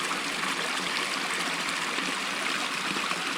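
A brook flows beside a hiking trail bridge in mountain wilderness, its steady broadband rush and trickle continuous and fairly close, with no voices over it.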